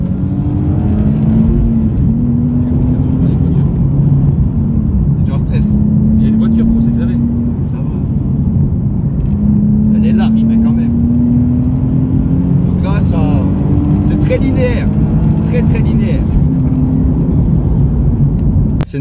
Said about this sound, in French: Allez, c'est parti, je mets plein gaz. Là, je suis pied au plancher.